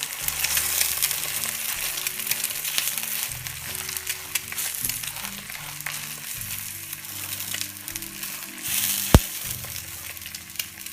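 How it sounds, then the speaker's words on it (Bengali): Sausages, egg and bread frying together in a pan over lowered heat, a continuous close sizzle with light crackle and an occasional sharp tap of a utensil. "আমরা চুলের আঁচটা একটু কমিয়ে দিয়ে অল্প আছে কিছুক্ষণ ভাজি করব"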